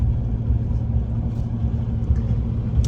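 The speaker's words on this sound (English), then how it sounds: "Ram truck handling it well, just like a cool fall rain with some slush on the road" Ram 1500 pickup truck driving on a slushy winter road during a snowstorm, heard from inside as a steady, loud low-end rumble of engine and tires with a faint wet hiss and no speech.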